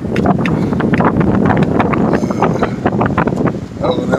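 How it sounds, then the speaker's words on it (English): Strong wind buffets the microphone of a cyclist riding a bike down a city street, a steady loud rumbling roar with gusty bursts throughout. "The wind is working against me."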